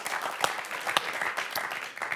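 Studio audience applause on a French television quiz show, a brisk, fairly close burst of many clapping hands lasting a couple of seconds.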